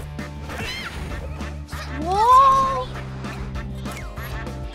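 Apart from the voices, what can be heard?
ducks quacking in the video game Nickelodeon All-Star Brawl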